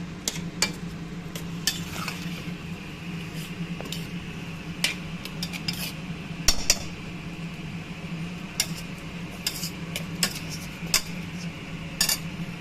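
A pot of carrots and beans being stirred while making paneer biryani: intermittent metallic clinks and scrapes of a spoon over a low simmering hum, near and fairly soft.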